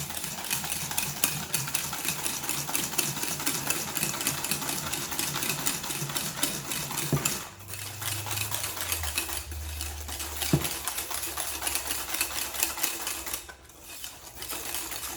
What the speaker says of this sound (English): We are going to mix it until it's yellow pale.